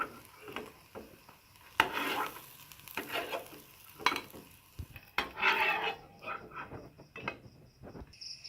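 Fried pumpkin pakoras being lifted out of hot oil with a slotted spoon: metal scrapes and clinks against the pan over a faint sizzle, in irregular bursts up close, with no talking.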